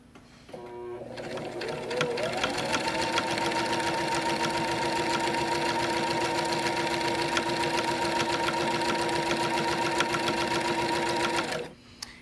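A sewing machine runs continuously, top stitching a fabric lanyard, with a fast steady mechanical whir and clatter that speeds up at the start and stops abruptly near the end.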